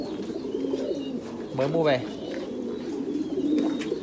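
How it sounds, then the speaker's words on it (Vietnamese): Newly bought pair of Titan Thai pigeons giving a brief soft coo, partly under someone talking over a steady background hum. "Đây là cặp chim bồ câu anh em mới mua về đi"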